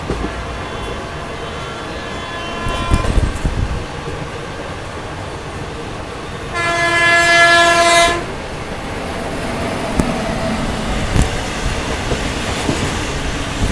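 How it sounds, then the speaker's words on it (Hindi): Horn of a special train sounding during a parallel overtake of the Mahakaushal Express, a steady loud tonal blast lasting about a second and a half, over continuous rolling rail rumble and clatter, with a brief clattering burst earlier. "पैरेलल ओवरटेक मार रही है अपनी स्पेशल ट्रेन"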